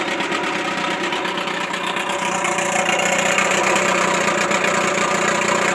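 A Montgomery Ward Sea King 12 hp outboard motor, made by Gale, idles steadily and close up with a rapid, even ticking putter and a faint mechanical whine, running alone without any voices.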